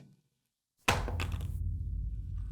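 A OnePlus Nord CE 5 phone drops onto a hard floor with a sharp thunk and a few quick rattling bounces, followed by a low, lingering rumble.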